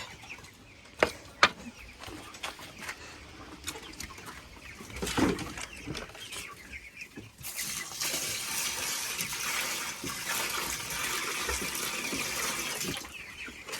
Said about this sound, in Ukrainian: Зараз залію води.